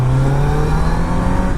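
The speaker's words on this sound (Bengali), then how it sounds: "এটা হচ্ছে স্টক এক্সস্টের সাউন্ড আমাদের Z900 এর।" Stock exhaust of a Kawasaki Z900 motorcycle, loud and close, holding a steady low engine drone with a strong harmonic tone throughout, no talking.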